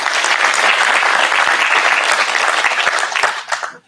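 An audience at an HSE contractor day event applauds the organizing team, a dense, steady wash of many hands clapping at full volume that fades out at the very end.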